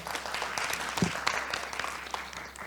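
A seated audience at a public housing panel discussion claps in a steady burst of applause that fades toward the end.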